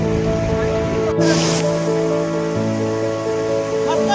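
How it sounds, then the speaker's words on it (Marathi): A small waterfall near Ambernath rushes in a steady, dense wash of falling water, loud and close, with a brief splash or knock partway through and no clear speech. "एकदम छोटा धबधबा"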